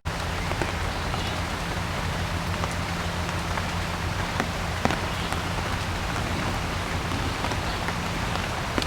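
Steady rain falls on surfaces in Pasir Ris Park, a dense, even hiss of drops with occasional louder splats, continuous and fairly loud throughout with no voices.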